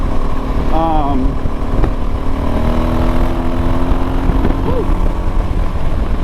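A loud DRZ400 dirt bike engine with a full exhaust and bigger main jet drones and revs continuously, with rising and falling pitch sweeps, steady and close throughout.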